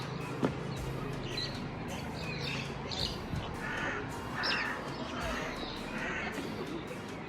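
Crows caw repeatedly in a garden, their harsh calls rising at intervals from a moderate distance over a steady outdoor background hiss, with no nearby voices.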